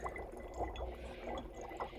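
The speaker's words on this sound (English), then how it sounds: "We can see that a lot more if we drop it into some water." Dry ice dropped into water, with a faint, continuous bubbling and gurgling churn that holds steady throughout, quiet and close, with no talking.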